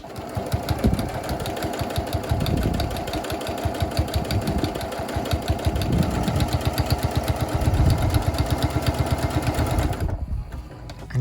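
A sewing machine stitches down a fabric seam as a top-stitched seam finish, humming close and loud with a steady rapid needle rhythm that stops abruptly near the end.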